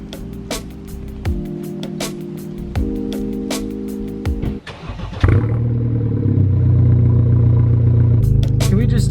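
A BMW F30 with a straight-piped, catless stage 2 exhaust revs loudly, with sharp repeated blips and crackles early on, then a deeper sustained rumble as the engine climbs and holds at higher revs.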